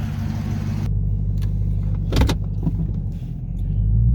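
Car interior as the driver climbs in: a low engine hum and road rumble, a door or window thud partway through, then steady idling and driving noise, fairly close and without talk.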